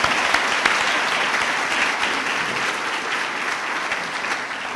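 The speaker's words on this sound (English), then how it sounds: "I think that deserves a round of applause." Audience applause at a university law awards evening, a dense, steady clapping from a full room that holds evenly and tapers slightly toward the end, with no talk over it.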